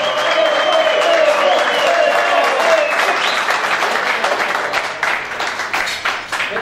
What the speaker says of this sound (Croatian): Zbog toga vas molim, isto tako, veliki aplauz kao i do sada.